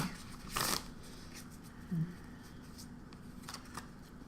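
Oracle cards are shuffled in the hands, two short crisp riffling bursts a second or so apart, followed by faint light card taps and rustles in a quiet room.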